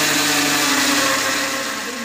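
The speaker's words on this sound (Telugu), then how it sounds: "ఇప్పుడు మూత పెట్టేసుకొని మెత్తగా మిక్సీ పట్టుకోవాలి" A kitchen mixer grinder blends soaked rice with water, a loud, steady whirring motor drone with a constant hum that runs through the whole stretch, easing slightly toward the end.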